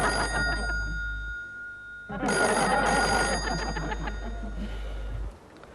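A telephone bell rings loudly nearby in two long bursts separated by a short pause, with no voices.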